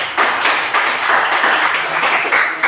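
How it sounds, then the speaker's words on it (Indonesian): A classroom of students clapping together, a steady wash of many hands at close range with a few sharper accented claps, no talking over it. "Tepuk tangan sama-sama."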